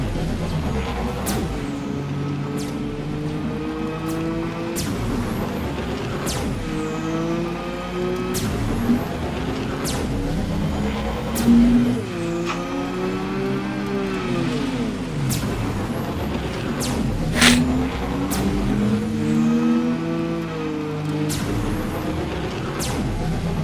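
A car engine revs and drops repeatedly while driving, its pitch sweeping up and down in steady, close, moderately loud surges with a few sharp clicks over the roar.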